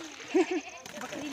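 A goat gives two short, near bleats in quick succession under background noise, with people talking nearby.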